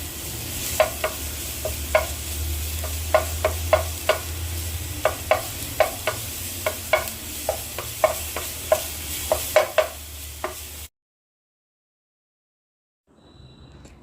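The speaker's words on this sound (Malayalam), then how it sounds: "ഒരു പാനിലേക്ക് കുറച്ച് വെളിച്ചെണ്ണ ഒഴിച്ചു കൊടുക്കാം. വെളിച്ചെണ്ണ മൂത്ത് വരുമ്പോൾ 1 ടേബിൾ സ്പൂൺ ഇഞ്ചി വെളുത്തുള്ളി പേസ്റ്റ് ഇട്ട് കൊടുക്കാം" Ginger garlic paste frying in hot coconut oil in a pan, a continuous close sizzle punctuated by a rapid run of sharp spatula scrapes and taps, ending abruptly in silence before a faint return.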